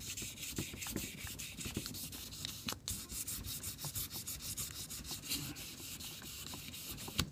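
Bluing is rubbed off an AK-47 bolt carrier with steady, close back-and-forth scrubbing strokes, a continuous gritty rasp punctuated by small clicks and knocks, with no talking.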